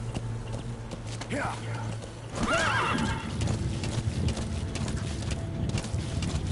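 A horse in Metal Gear Solid 5: The Phantom Pain neighs loudly, then its hooves clip-clop steadily at a walk, with someone talking briefly over it.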